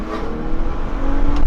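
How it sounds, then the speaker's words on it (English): A modified BMW M2 (F87, N55 engine) with an M Performance exhaust and a tune above 400 horsepower accelerates hard, its engine note loud and steady and rising slightly over a short burst, with no talking. "a specially modified BMW M2, and it has an M Performance exhaust"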